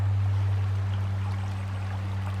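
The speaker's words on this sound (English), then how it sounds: "it's created a massive island where the water comes rushing down, and it starts coming down each channel" Water rushing down the channels of the Kershope Burn stream around an island, a steady broadband flow heard close and alone with a constant low hum beneath.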